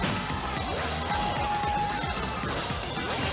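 Wario's forward smash with his bike in Super Smash Bros. 4, a crashing hit set inside dense, busy game audio with continuous sound effects and music.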